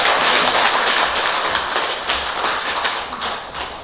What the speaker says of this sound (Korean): 박수 한번 크게 칩니다.